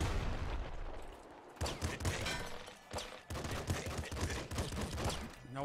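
Rapid bursts of electronic gunfire from a triple machine gun in the video game Nuclear Throne, dense crackling volleys with brief gaps, moderately loud and heard alone without voices.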